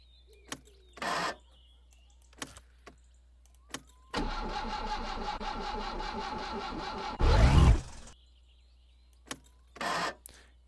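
A car engine in the My Summer Car video game cranks over for several seconds, catches with a louder roar and then cuts off, set among scattered short clicks and clunks.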